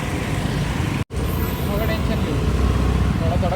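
Busy road traffic with cars and large vehicles in a market area rushes past nearby as a steady broadband roar, with a brief dropout partway through and voices mixed in.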